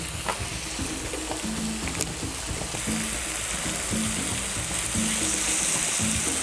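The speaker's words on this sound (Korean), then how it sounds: "참기름 살짝 둘러주고 볶아요" Steady loud sizzling of pork belly fried rice stir-frying in a hot pan with sesame oil and gochujang outdoors by a valley stream, with scraping and clinks of a utensil stirring throughout.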